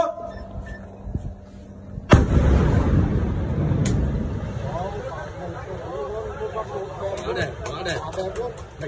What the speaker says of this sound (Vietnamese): tiếng mìn nổ vang và khối đá rơi xuống trước hàng chục ánh mắt theo dõi